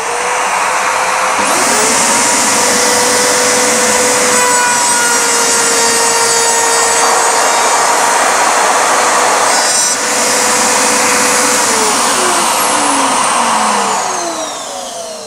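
A Parkside table-mounted router cuts a groove in wood while a vacuum runs, a loud steady high whine with a rushing airflow roar, the pitch dipping briefly as the cut starts and again midway, holding for about fifteen seconds with no talking.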